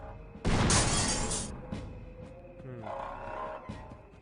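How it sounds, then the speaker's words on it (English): A loud burst of glass panes shattering in the game Grim Fandango, followed by a softer rumbling tail and faint game sounds. "Why could we want to break all the glass panes?"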